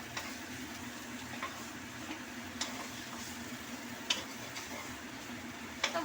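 Spice masala and salt frying in a pan, a faint steady sizzle with a few light scrapes and taps from occasional stirring.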